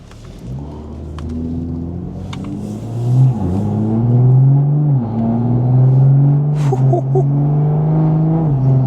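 A BMW 440i engine with aftermarket intake, downpipe and exhaust hums and revs up steadily from inside the cabin, its exhaust note rising and falling as it accelerates, with no talking.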